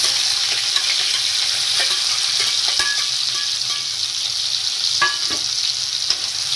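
Finely chopped onion, one large bulb, frying in a pan for a Rajasthani aloo mangodi curry, with a steady dense sizzle throughout and occasional scraping stirs and clicks, close and fairly loud, with no voices.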